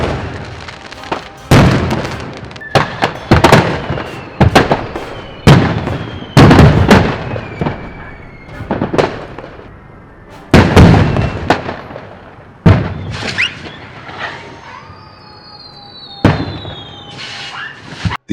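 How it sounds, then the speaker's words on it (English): Illegal homemade fireworks going off at a house in Pacoima, Los Angeles, a long run of loud, sharp booms and cracking bursts at uneven intervals, several overlapping with whistling trails and echoing decays, no talking. "The explosion is believed to have been caused by illegal homemade fireworks"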